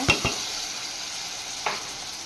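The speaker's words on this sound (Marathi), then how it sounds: "इथे मसाला तेल सुटेपर्यंत मी हा चांगला भाजून घेणार आहे" Masala with tomato paste, chili powder and turmeric frying in oil: a steady close sizzle with a few brief stirring scrapes near the start and again later.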